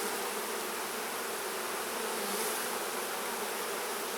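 Honey bees buzz in a steady, dense drone throughout, a continuous close hum with no voices over it.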